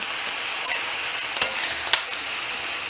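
Mushrooms and ground turkey cook in a pan for a pasta with greens, giving a steady broadband sizzle with a few soft stirring clicks and scrapes, moderately close, with no talking.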